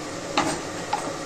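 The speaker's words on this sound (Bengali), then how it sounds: "নাড়িয়ে নেব।" Vegetable stems with turmeric and salt are stirred in a pan, giving two short, close scraping clicks about half a second apart against low background noise.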